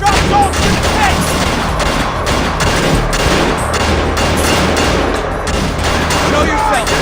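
Gunfire in the Splinter Cell Conviction video game: loud, dense volleys of shots repeating steadily for several seconds, mixed with shouting voices and combat noise.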